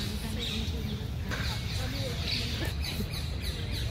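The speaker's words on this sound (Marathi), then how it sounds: "पक्ष्यांचा आवाज आहे, तुम्ही ऐकू शकता" Birds chirp and call in Empress Botanical Garden in Pune, thin bright calls scattered across a steady outdoor hum, with a person talking over them throughout.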